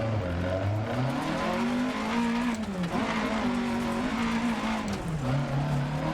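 Rally car engine in the Dirt 2 video game, revving loud and continuous with shifting pitch as it races over rough ground and skids, no talking.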